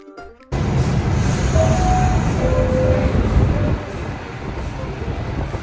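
A New York subway train roars along loudly with rumbling wheels and a faint squeal, the din easing slightly toward the end; no talking.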